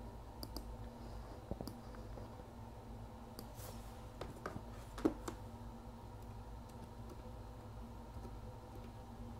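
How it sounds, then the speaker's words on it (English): Faint computer-keyboard typing: scattered light key clicks arrive in irregular bursts over a quiet room hum, with one slightly louder tap midway. "Oh, I'm typing in English."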